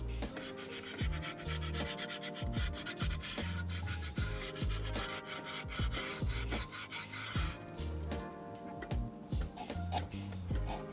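A horn contact ring on a car steering wheel is cleaned by hand, making a continuous close scratchy rubbing and sanding sound with rapid ticking strokes, fairly quiet and with no talking.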